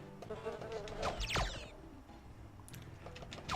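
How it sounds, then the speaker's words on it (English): Buzzing insect drones from a Power Rangers Lightspeed Rescue video game, a wavering hum amid game music and effects, with a swooping pass around the middle and steady buzzing throughout. "at least there's still plenty of bees"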